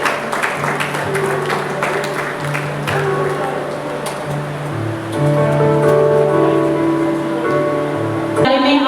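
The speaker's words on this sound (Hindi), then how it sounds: "जोरदार तालियां इनके लिए।" Loud, sustained applause from a crowd at an awards ceremony held by a Lions Club for disabled people and journalists, with music or voices mixed in and a change in the sound near the end.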